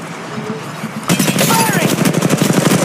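In Apex Legends, rapid automatic gunfire breaks out after a second of quieter game sound and keeps rattling in fast, even bursts, loud and close.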